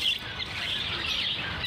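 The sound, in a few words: caged finches and cockatiels chirping at a bird market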